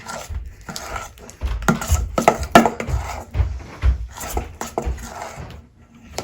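Homemade slime made with laundry detergent is stirred in a container, giving irregular wet squelches and knocks with scraping, close up.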